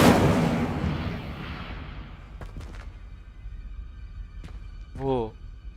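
A fiery Incendio spell is cast in a Wizarding World video game, starting as a loud whooshing burst that fades into a decaying rumble, followed by a few sharp clicks and then a brief spoken voice.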